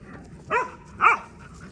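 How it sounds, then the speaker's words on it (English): Two distinct dog barks, fairly close and clear, separated by a short pause against a quiet background. "Oh, there's dogs."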